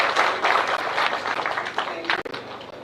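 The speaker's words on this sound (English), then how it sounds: "Another round of applause," An audience at a live KCPE results announcement in Kenya breaks into steady, dense applause that fills the whole moment, loud and close, with a brief dip near the end.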